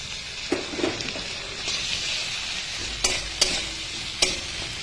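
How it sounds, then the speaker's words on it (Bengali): Ginger and chili paste stir-fried with fried potatoes in a pan, a steady sizzle and frying hiss broken by a few sharp scraping stirs, close and moderately loud with no talking. "এর মধ্যে আমি এখন দিয়ে দিচ্ছি আদা আর লঙ্কা পেস্ট।"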